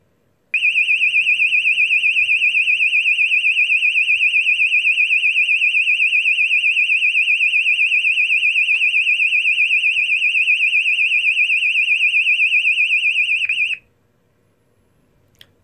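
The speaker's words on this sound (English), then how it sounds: "2400 Hertz to 2500 or 2900 Hertz medium sweep, also known as British standards high frequency medium sweep." An E2S A100DC24R alarm sounder plays the British Standard high-frequency medium sweep tone, a loud, steady, rapidly warbling electronic siren that runs continuously for about thirteen seconds and then cuts off abruptly into near silence.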